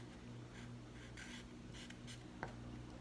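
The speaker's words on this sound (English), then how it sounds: "Let me write that down." Writing color terms by hand, faint scratchy strokes of a pen or marker in short separate bursts over a low steady hum, no speech.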